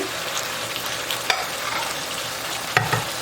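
A fish gravy with chopped coriander, mint and fried onion is stirred in a pot. A continuous close sizzle carries a couple of sharp spoon knocks against the metal. No voice is heard.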